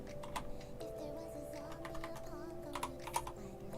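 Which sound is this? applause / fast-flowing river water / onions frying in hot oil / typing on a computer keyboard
typing on a computer keyboard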